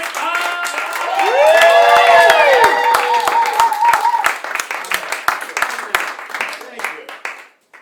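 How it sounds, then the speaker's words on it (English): An audience claps and whoops for a special guest on a live late-night show, swelling quickly into loud applause with cheering voices. It then thins into scattered claps as the clapping dies away. "get the round of applause going"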